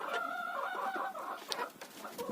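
Several chickens cluck and chatter continuously at close range, with a few sharper squawks near the end and no voices.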